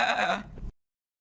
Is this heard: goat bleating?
yes